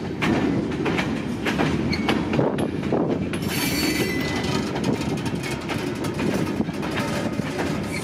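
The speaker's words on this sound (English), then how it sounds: "Just ran out the door, heard the train." Freight train rolling through a rail yard with steady rumbling wheel noise, clickety-clack over rail joints and occasional squealing wheels, loud and continuous throughout with some wind.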